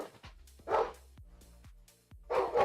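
A dog barking in short bursts indoors, a few separate barks and yips spaced across a brief moment, moderately close, with no talking over them.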